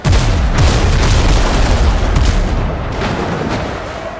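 Ship cannons booming in the sailing game Windrose, a loud sustained barrage of deep blasts rolling into one another, with sharper cracks layered on top, fading slightly toward the end.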